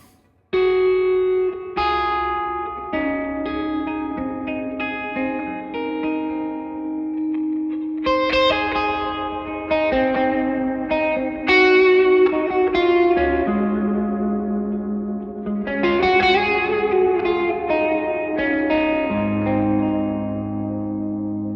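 Electric guitar through a Seymour Duncan Dark Sun reverb/delay pedal set to maximum decay: sustained chords and single notes ring out and blur together in long, spacey tails with echoing repeats, played alone with no talking.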